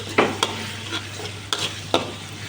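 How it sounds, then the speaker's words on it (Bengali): Spices sauté in a pan, with a soft, constant sizzle broken by several sharp scraping strokes of a stirring spoon spaced irregularly. "এখন একটু মশলাগুলো একটু কষানো হোক।"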